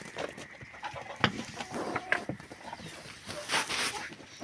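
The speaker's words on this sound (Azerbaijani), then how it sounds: "Toyuqlar üçün qabda yem aparıram" Chickens cluck and call at evening feeding as a tub of feed is carried to them, a busy cluster of close, overlapping bird sounds with a few sharper calls standing out.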